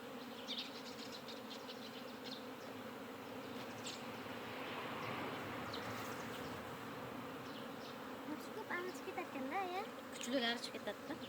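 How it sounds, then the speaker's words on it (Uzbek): A swarm of escaped honey bees buzzes in a dense, continuous drone that holds steady throughout, with a faint voice appearing toward the end. "Mana shu vijir-vijir qilgan hammasi ari bo'ladi."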